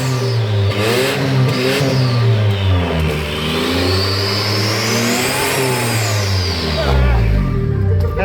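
Quad-turbo four-cylinder engine with four turbochargers and water-cooled intercoolers revs hard several times, its pitch sweeping up and down with boost in a loud, continuous roar close by.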